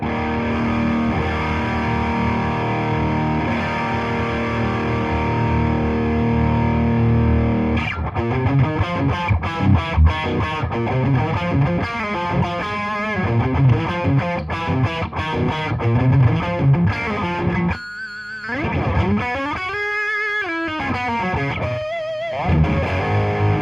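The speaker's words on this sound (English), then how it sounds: "side B is definitely more like a high gain distortion pedal" Electric guitar played through a Fender Pugilist distortion pedal on its high-gain B side, starting with a sustained saturated chord, then busy riffing and choppy strummed phrases, loud and buzzy with a noisy hiss underneath.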